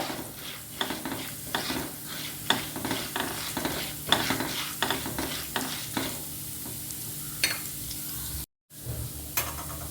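Chana dal fries in a pan while being stirred, giving a stream of rhythmic scraping strokes over a soft sizzle. Close and moderately loud, the stirring breaks off briefly near the end, with no talking.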